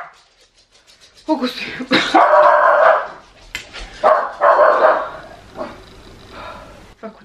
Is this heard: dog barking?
yes